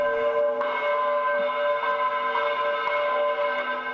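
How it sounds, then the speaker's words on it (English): Church bells in Beirut toll to mark the start of worship, a loud, ringing tone that sustains and swells without a break through the whole stretch. "The Mariusa Church in Beirut tolled its bells, signaling the start of worship services."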